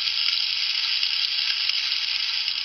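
Bacon and eggs frying for a fireman's breakfast give a loud, steady close-up sizzle, a dense crackling hiss that runs unbroken with no voices.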